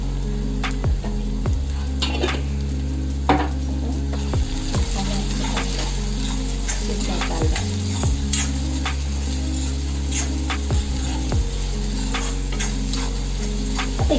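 Onions frying in oil in a pan for a Marathi-style roasted brinjal dish with dried shrimp, a steady close sizzle running throughout with occasional clicks and stirring scrapes.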